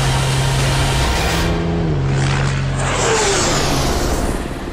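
The world's fastest truck accelerating away, its engine roaring loudly with rising, then falling tones as it pulls off into the distance, no talk.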